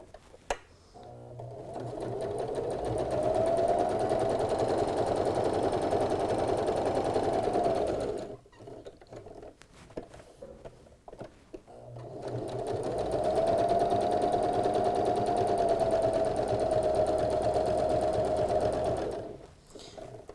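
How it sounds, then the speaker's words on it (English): A sewing machine stitches fabric for a grocery bag dispenser in two long steady runs of fast whirring, separated by a short pause with a few clicks. "So just lower the needle in where you want to start the stitching."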